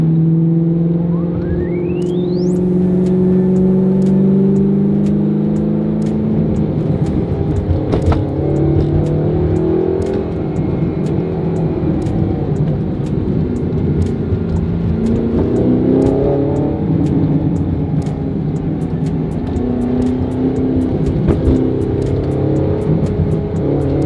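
Audi R8 engine revving hard and accelerating on the road with cold tires, a loud continuous roar that climbs and drops through gear changes, close to the car, with wind buffeting throughout.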